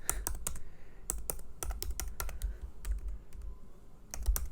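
Rapid, steady typing on a computer keyboard, close and clear, a continuous stream of sharp key clicks over a low hum.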